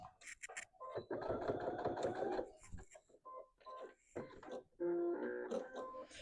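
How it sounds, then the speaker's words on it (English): Home sewing machine back stitching quilt binding on a bench pillow, with short bursts of fast mechanical stitching separated by pauses and brief clicks, close and fairly quiet. "I am going to go ahead and back stitch"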